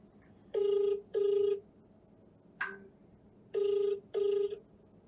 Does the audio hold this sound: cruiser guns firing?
no